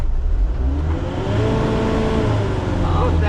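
A Force Gurkha 4x4 jeep idles off-road in Sakleshpur with a loud, low, steady engine rumble that swells slightly as it revs, and a voice speaks faintly underneath.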